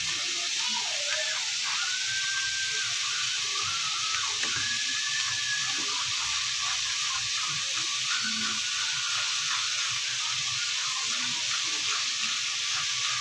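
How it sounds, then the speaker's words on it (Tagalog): Water goes into a pan of sizzling sautéed corn cooked with malunggay leaves, giving a steady loud hiss and crackle throughout, with faint talk in the background. "Ayan, lagyan ng tubig."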